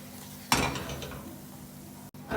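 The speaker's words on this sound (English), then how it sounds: "I'm mixing it, I'm keeping a really low heat because I just want the flour to get toasted up along with the garlic and not burn" Flour and garlic stirred in butter in a pan over low heat: a utensil clinks and scrapes against the pan, then a soft stirring rustle and gentle sizzle continue at close range, without speech.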